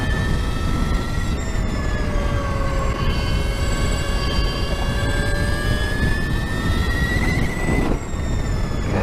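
An electric motorcycle accelerating hard with the throttle wide open, a loud steady high-pitched motor whine rising in pitch over several seconds, with strong wind noise and no talking.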